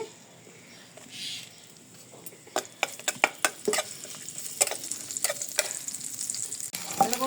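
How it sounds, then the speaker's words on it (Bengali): Onion and green chili frying in oil in a frying pan, a soft steady sizzle overlaid with quick, rhythmic scraping and tapping of a spatula stirring close by, with no talking. "এটা পেঁয়াজ কাঁচামরিচ ভাজা হয়ে গেছে ভর্তার জন্য"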